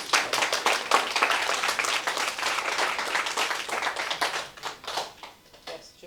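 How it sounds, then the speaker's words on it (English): Audience applause after a spiritual talk: a dense round of clapping from many hands, loud and continuous at first, then thinning into scattered claps toward the end. "Wanted to reiterate with that round of applause"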